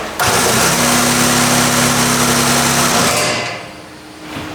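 A loud Honda race truck engine cranks over with a rapid mechanical churning for about three seconds without catching, then winds down into quieter background noise.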